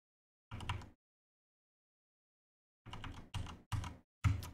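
Typing on a computer keyboard while filling in an online medical cannabis card application: one short burst of keystrokes, a pause of silence, then four quick bursts of clicking, close and clear with no voices.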